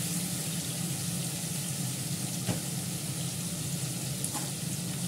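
Washed, soaked gobindobhog rice sizzling in a hot pan, a steady, even frying hiss that holds for the whole stretch, close up with no voices.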